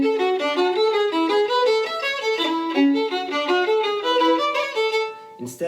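Cape Breton fiddle tune played with a rocking heel-toe foot tap, the bowed melody moving in lively stepwise notes with a steady rhythmic swing, close and clear with no talking.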